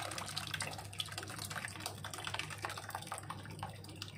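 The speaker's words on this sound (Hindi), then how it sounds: "अब ये सारा पानी इसमें मैंने डाल दिया" Leftover whey from homemade paneer trickles and drips through muslin cloth in a strainer, a steady close wet patter with a low hum underneath and no talking.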